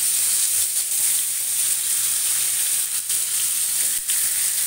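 Koi fish frying in very hot, smoking oil in a kadai makes a steady, fairly loud hiss and sizzle that runs unbroken throughout, heard alone without talk.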